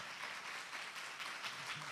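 A church congregation in Paralakhemundi claps together in praise, a steady wash of applause from many hands heard at moderate distance with no break.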